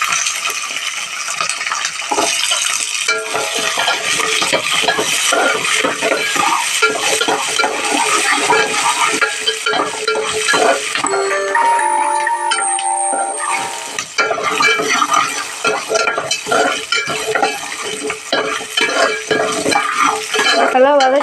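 Small shallots sautéing to golden brown for chutney, with loud, continuous sizzling and repeated clinks and scrapes of a spoon against the pan throughout.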